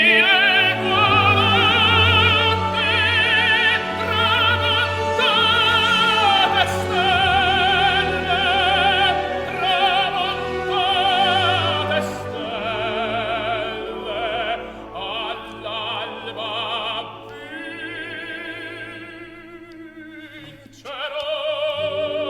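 The Nessun Dorma aria from Turandot plays as a recording, a full orchestral and vocal passage with sustained swelling notes at moderate volume that thins out toward the end, no talking over it.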